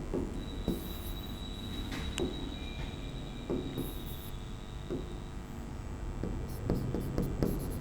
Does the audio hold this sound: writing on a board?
yes